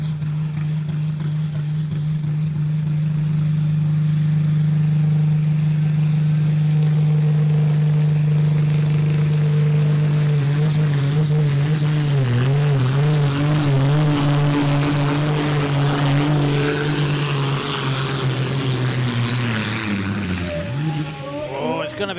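The Red Hurricane pulling tractor roars loudly through a competition pull run at a tractor-pulling event, its deep tonal engine note wavering and bending as revs sag toward the end, with crowd and announcer voices underneath.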